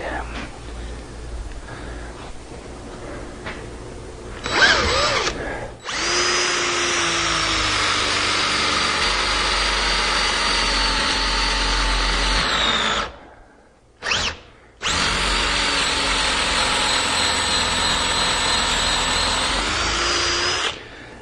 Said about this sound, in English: That old hard maple's tough. I think that drill bit might be a little bit dull too.